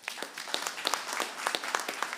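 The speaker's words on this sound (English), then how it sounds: "I would like you to help me applaud them" Audience applause at a conference session on Africa's continental power system masterplan, a brief burst of scattered clapping from the room, moderately faint, with no voices over it.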